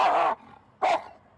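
A police dog at a traffic stop gives two loud, sharp barks close by, separated by a short pause.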